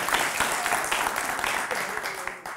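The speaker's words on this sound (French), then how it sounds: "Encore plus, beaucoup plus d'applaudissements." Studio audience on a French talk show clapping briskly in a short burst, individual claps audible within the crowd sound, with a voice briefly heard over it.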